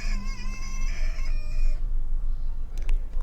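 A chicken's clucking and a rooster's crow play from a phone animal-sound toy, loud and close: a sustained crow followed by a few short clucks.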